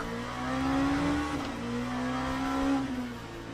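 Race car tyres locking and squealing under braking in the Le Mans Ultimate sim racing game, a steady tonal squeal over the engine drone, rising twice within a few seconds.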